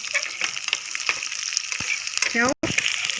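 Onions frying in a pan with curry leaves and red chilli, a steady close sizzle with occasional stirring scrapes and a brief clatter near the end.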